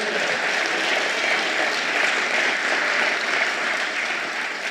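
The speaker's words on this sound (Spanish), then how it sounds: "Dale un aplauso al Señor en esta hora" A church congregation applauds together during a worship service, a steady, dense wash of clapping that holds evenly at full strength throughout, with no talk over it.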